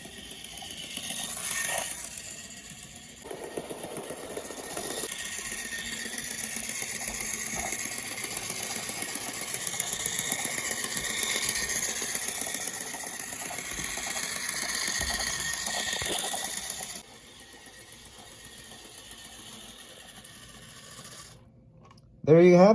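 A small Bachmann model locomotive with a 1990s mechanism whirring and rattling steadily nearby, a busy mechanical hum with clicking, fading down near the end.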